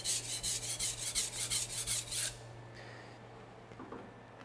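A knife being sharpened by grinding, a steady rhythmic rasp of about a dozen back-and-forth strokes close by that stops abruptly partway through, leaving quiet room tone with faint handling.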